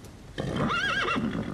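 A horse neighs loudly and close in a long, wavering whinny that rises and falls, preceded by a brief soft rustle, with no voices over it.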